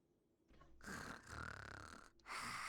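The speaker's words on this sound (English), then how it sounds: "Oh, Paimon snores loud." Paimon snores loudly in Genshin Impact, with a faint lead-in and then two long, rough snoring breaths separated by a brief pause, close and alone.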